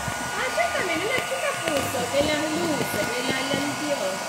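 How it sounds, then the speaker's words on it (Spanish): A handheld hair dryer blows steadily in a room, a continuous airy whir running the whole time beneath overlapping conversation from several people nearby. "Dicen que hace mucho ruido el secador de pelo."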